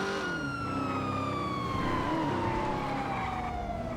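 Official police car siren in a racing video game, a sustained wail slowly gliding downward over a constant engine roar, close and loud, with no voices.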